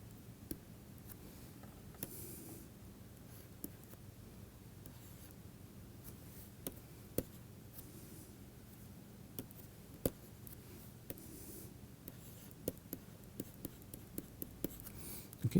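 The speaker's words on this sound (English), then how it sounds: "Let me write it clearer for you." Faint tapping and scratching of writing on a board during a physics lecture, light irregular clicks over a quiet steady room hum with no talk.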